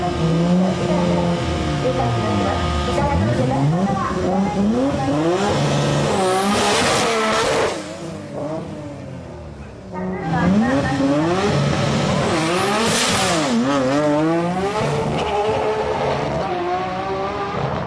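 A Nissan Skyline GT-R R32 drag car with a 2.8-litre engine and twin HKS 3240 turbos screams through its gears, engine pitch climbing sharply, dropping on each shift, then rising again twice to a piercing top end.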